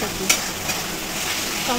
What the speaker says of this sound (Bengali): এবার আদা রসুন বাটা দিয়ে একটু ভেজে নেব।